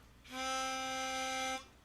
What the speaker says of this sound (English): I'm going to use my pitch pipe here,